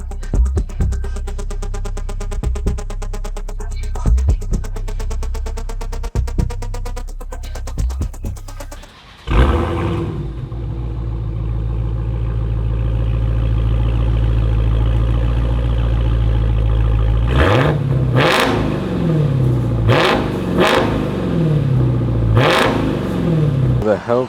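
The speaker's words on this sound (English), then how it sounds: "The Hellcat is all done. I know you guys heard it. It sounds perfect." A Dodge Charger Hellcat widebody with freshly welded exhaust barks through a run of sharp revs, then settles into a deep, loud, rumbling idle before more hard throttle blips ring out close by.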